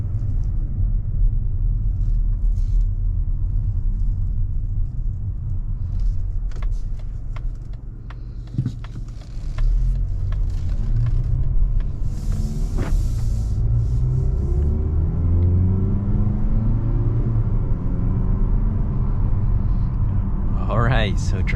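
A low, steady engine and road rumble fills the cabin of a 2023 Mazda CX-50 with a 2.5-litre naturally aspirated four-cylinder as it drives smoothly. A person talks over it, and a few brief clicks sound nearby.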